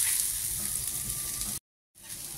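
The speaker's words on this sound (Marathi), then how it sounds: "आता यामध्येच मी 4-5 लसणाच्या पाकळ्या आणि अर्धा इंच इतकं आलं घेतलंय, तेही भाजून घेते कांद्यासोबत।" Onions roast in a pan with four or five garlic cloves and half an inch of ginger for Malvani chicken, giving a steady close sizzle that cuts off abruptly, then resumes after a brief silence.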